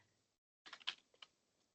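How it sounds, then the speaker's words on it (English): A burst of quick computer keyboard typing, a handful of close, crisp key clicks in uneven rhythm after a brief silence, fairly quiet and alone with no talk. "Typoing like Melinda does when she's typing too fast."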